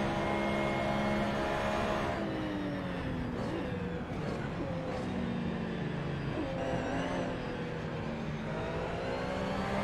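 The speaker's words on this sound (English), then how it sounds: "We just saw multiple cars entering and exiting the pits at different positions in the race." Race cars enter and exit the pits at Spa-Francorchamps in Gran Turismo, with several engines droning and revving in overlapping layers at moderate volume, one rising and falling as it passes.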